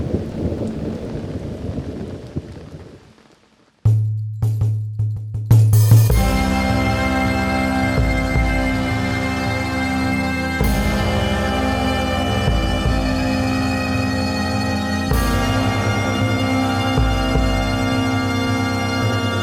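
Steady rain with rolling thunder, preceded by a brief quiet gap, then a dense continuous downpour with low rumbles swelling throughout, loud and close with no talking.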